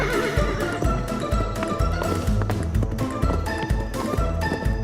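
A cartoon horse neighs loudly over rhythmic hoof clip-clops that repeat at a steady trotting pace throughout, close and prominent, with no talking.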